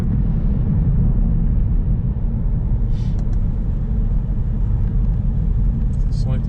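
A car engine rumbles steadily and loudly as the car pulls away gently and smoothly in traffic, with a voice talking over the drone and a couple of faint clicks.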